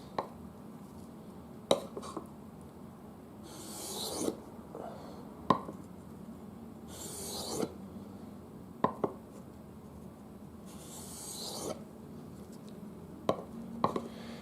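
Soft, repeated scraping strokes of a knife blade drawn across a whetstone, with sharp little clicks between them, quiet and close.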